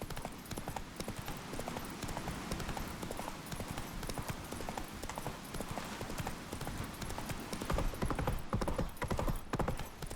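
Roach the horse galloping in The Witcher 3, a busy, continuous drumming of hooves that holds steady throughout, with scattered game noise and faint voices in the mix.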